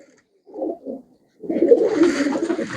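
A pigeon coos near and clear, two short soft calls followed by a longer, louder rolling coo that continues to the end.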